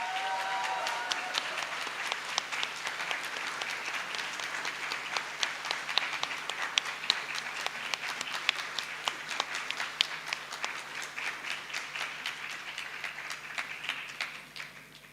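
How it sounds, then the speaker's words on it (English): A student audience at IIT Delhi gives sustained applause to welcome a guest speaker. The steady crowd of hands stays even and moderately distant for about fifteen seconds before tapering off at the end. "Let's give a big round of applause."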